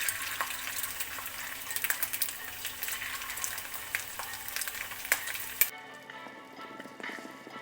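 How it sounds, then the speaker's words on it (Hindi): Chicken stir-frying in oil over a medium flame gives a soft, continuous sizzle with scattered clicks and utensil scrapes, quiet and close, cutting off abruptly near the end to leave faint clatter. "हम इसको मीडियम फ्लेम पे फ्राई करेंगे।"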